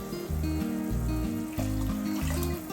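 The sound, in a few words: water being poured into a pot of jollof rice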